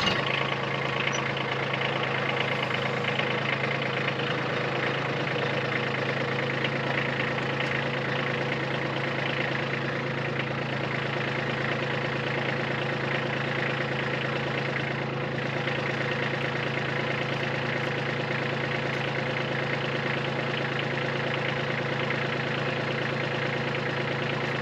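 A tractor engine idles steadily at a constant pitch, a continuous loud, even drone throughout with no talking.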